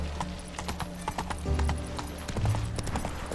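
Horse hooves clip-clop at a steady gallop in The Witcher 3: Wild Hunt, close and rhythmic, with a brief whinny partway through.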